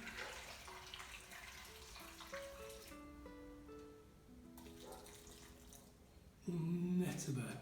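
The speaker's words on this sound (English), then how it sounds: "2 cups of boiling water," Two cups of boiling water are poured into a pot for one-pot macaroni cheese, with a soft splashing stream throughout and a louder, fuller pour near the end.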